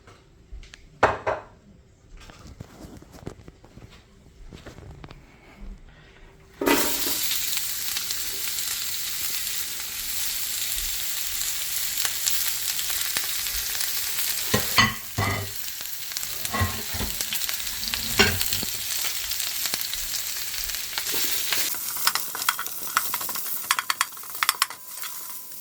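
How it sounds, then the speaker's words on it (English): Loud continuous sizzle of seafood frying in hot oil for a seafood boil, starting abruptly after some quiet clattering, with occasional clinks of a utensil against the pan. "we're gonna bring this to a nice little fry"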